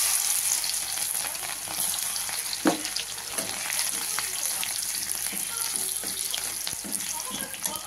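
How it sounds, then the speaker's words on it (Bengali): Crushed garlic and chopped green chilli fry in oil in a wok, giving a steady, fairly soft sizzle with occasional clicks and scrapes. "এই যে রসুন থেতো করে নিয়েছি আর কাঁচা লঙ্কা কেটে নিয়েছি,"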